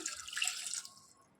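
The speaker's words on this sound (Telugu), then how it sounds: "ఇప్పుడు ఇందులోనే 1 గ్లాస్ వరకు వాటర్ యాడ్ చేసుకోవాలి" About a glass of water splashes and trickles into a pot of mutton for about a second, then tapers off quickly; a short, close pour with no voices.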